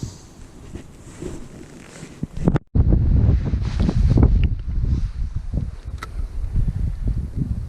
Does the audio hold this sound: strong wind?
yes